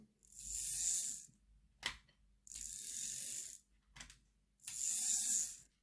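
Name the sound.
Hornby Mallard model locomotive mechanism running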